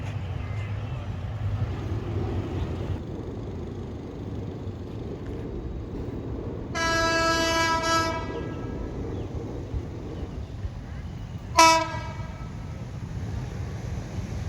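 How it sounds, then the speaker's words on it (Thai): An SRT local passenger train, number 446 from Chumphon Junction, arrives at the Wat That Noi stop. Two horn blasts sound, first a long one and then a short one, over the low rumble of the approaching cars. "ขบวนรถท้องถิ่น 446 ชุมทางใหญ่ชุมพรเข้าวัดธาตุน้อยฮะ"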